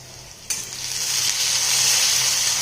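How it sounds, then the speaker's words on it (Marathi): Onion and curry leaves fry in hot oil for a methi besan dish; a loud sizzle bursts in abruptly after a brief quiet moment, then holds steady and close. "कांदा सोनेरी रंगावर परतून घ्यायचा आहे. त्याच्यानंतर याच्यामध्ये कढीपत्ता घालायचा आहे"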